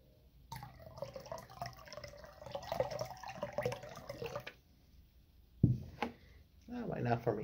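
Coconut water with real coconut pieces is poured into a mixture for a white bath, giving a soft, uneven liquid trickle with splashes, faint and partly under speech, with a gap before a final pour.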